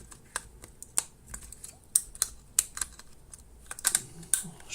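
A plastic rear chassis being clicked back onto a Samsung Solid B2100/B2710 rugged phone during reassembly, giving a series of sharp, close snaps and clicks spread unevenly over a few seconds in a quiet room.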